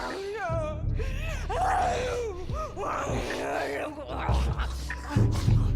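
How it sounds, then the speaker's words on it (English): A woman in a television drama scene cries and shrieks in anguish, with sobbing wails and groans rising and falling across several seconds. "Oh god, the crying and the shrieking"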